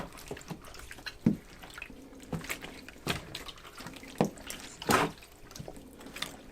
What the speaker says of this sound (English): So now I'm going to take this hide and rinse it around in this water.